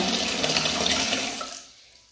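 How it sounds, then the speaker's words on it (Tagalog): Strong tap water gushes into a home washroom in the Philippines, a loud steady rush for well over a second that then fades toward the end, with no voices. "Malakas din ang tubig."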